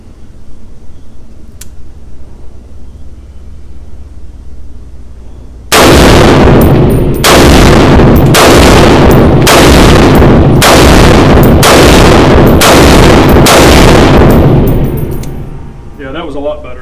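A POF-USA Rogue pistol fires about eight very loud, evenly paced shots from close range, each crack ringing out before the next, after a stretch of quiet outdoor background; a voice briefly follows at the end.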